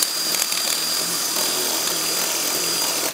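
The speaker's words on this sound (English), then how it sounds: "I'm just using a 5mm HSS bit on my drill, just to drill these out a tiny bit" A power drill fitted with a 5mm HSS bit bores out holes in a plasterboard wall, making a loud, steady, continuous grinding whine that runs unbroken for about three seconds.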